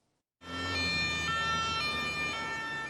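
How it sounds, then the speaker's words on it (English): Emergency vehicle sirens in Paris start abruptly and wail steadily, loud and continuous, with a pitch that shifts between tones over a low traffic rumble. "The sirens sounded again in Paris today"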